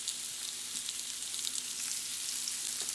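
Lobster tails fry in olive oil in a pan, a steady, dense sizzle with crackling pops throughout, close and even in loudness, with no voices.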